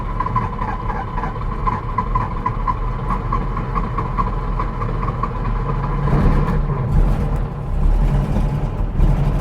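A cheap older Porsche 911 engine, running rich with too much fuel, settles into a steady, loud idle close by, with a rougher, louder surge partway through.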